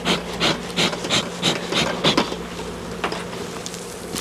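Honeybees buzzing close by during a beehive inspection, a rough droning hum with repeated pulsing surges and some rubbing or scraping, no one talking.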